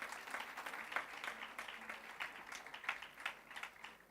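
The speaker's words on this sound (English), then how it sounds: "let's give her a big round of applause" Audience at a colloquium session clapping for a woman entrepreneur, a steady patter of many hands with sharper individual claps, moderately close and without talk.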